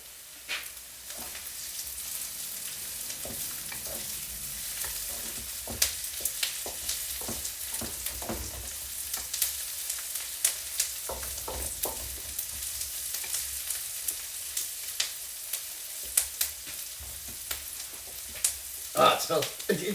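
Onions frying and searing in a hot pan, a steady close sizzle with frequent scraping stirs and clicks of a utensil, faint talk underneath now and then.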